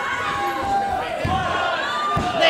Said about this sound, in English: And the sadistic crowd asking for one more